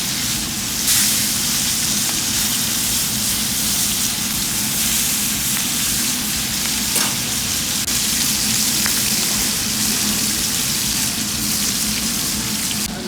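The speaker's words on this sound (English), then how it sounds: "Just nice and beautiful, nice seared lamb chops. Flip them." Lamb chops searing in a single pan give a steady, close, continuous sizzle and hiss, loud and even throughout with a few brief crackles and no talk over it.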